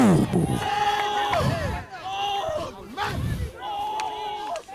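A church congregation at a Christmas Eve vigil service cheers and shouts loudly together, a dense crowd roar swelling in waves with a few voices rising above the rest.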